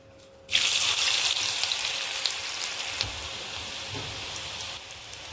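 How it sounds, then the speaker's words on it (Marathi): French fries frying in hot oil, cornflour-coated, make a loud steady sizzle that bursts in suddenly after a short quiet start and holds close and even throughout, with no talking. "आता तेल गरम झालंय आता आपण याच्यात फ्रेंच फ्राईज तळून घेऊया"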